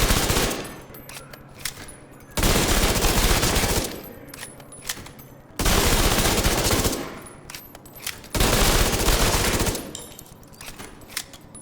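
Tommy gun bursts in The Division 2 during an SMG tournament match, several long sustained volleys of rapid automatic fire alternating with short pauses, loud and close.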